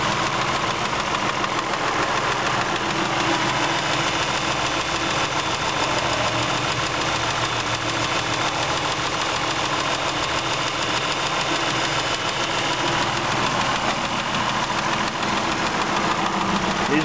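The 3.5-liter V6 in a 2009 Dodge Journey SXT idles steadily and close up. A constant low engine hum with a slight knocking texture carries on without change and without voices.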